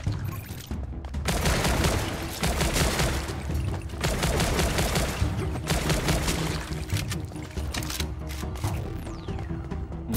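Sustained machine gun fire in the video game Zombotron, a dense rapid rattle of shots running nearly continuously and loudly over game sound.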